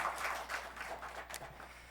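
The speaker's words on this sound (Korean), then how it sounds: "우리 한번 청년들에게 격려의 축복의 박수 한번 쳐줄까요?" A church congregation claps for its youth group during a Korean worship service, a faint, soft patter of scattered applause that thins out over two seconds with no voices over it.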